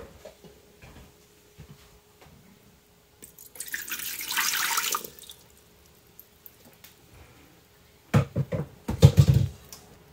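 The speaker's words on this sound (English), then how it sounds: "Put 1 cup of water in the Foodi." A cup of water poured into a Ninja Foodi pot: a brief splashy pour in the middle, then heavier thuds and knocks near the end, close and moderately loud in a quiet kitchen.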